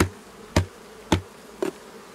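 Honeybees around a beehive being turned over, a buzzing hum under three or four sharp knocks spaced about half a second apart, close and fairly quiet, with no talking.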